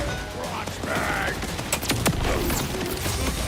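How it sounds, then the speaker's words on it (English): A fireworks shield goes off in Borderlands 4, giving a dense run of sharp cracks and pops layered over a constant noisy game backdrop with no speech. "Fireworks!"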